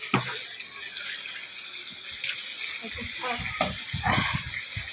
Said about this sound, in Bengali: শাকটাকে সুন্দর করে ধুয়ে দে বালুগুলো যেন না পড়ে